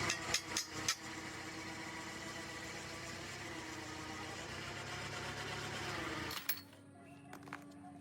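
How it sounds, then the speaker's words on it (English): A hammer strikes metal locking pins into a Caterpillar front differential gear housing, with a quick cluster of sharp knocks at the start, a steady mechanical hum in between, and a few more taps near the end. "He drives metal locking pins in with a hammer."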